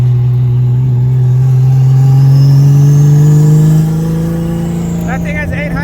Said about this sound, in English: Jordan's shredding in that car.